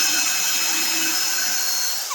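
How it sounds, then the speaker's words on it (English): A power drill whirs steadily and loudly at close range while boring a hole in wood, a continuous high motor whine with no talking. "I'm going to drill"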